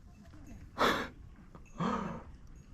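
A person on a mountain hike up Mt. Takao in Japan gasps twice for breath, two sharp breathy bursts about a second apart, close and fairly loud against quiet background.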